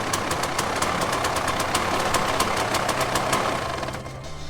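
A 2006 KTM 300XCW two-stroke dirt bike engine idles steadily, a continuous mid-pitched running drone with a faint regular ticking, dropping slightly in level near the end.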